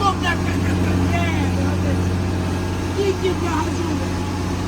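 A farm machine's engine runs steadily in a wheat field, a loud, continuous low drone with harmonic hum throughout, and voices talk over it.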